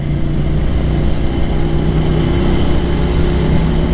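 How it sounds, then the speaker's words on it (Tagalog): A motorcycle engine idles steadily and close by, a loud, constant low rumble that runs through the whole stretch without any voices. "Okay na motor mo."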